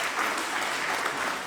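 A church congregation claps together at a Sunday service, even and sustained applause spread across the room, with no voices above it.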